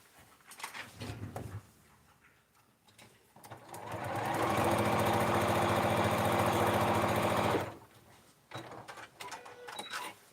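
A sewing machine stitches a paper-pieced quilt block in one steady, loud, close run of rapid whirring, lasting about three seconds, with quieter handling and rustling before and after.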